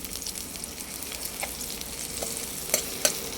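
Chili, onion and ginger sautéing in a pan for a sardine vegetable dish, a continuous close sizzle with a few light stirring taps and clinks.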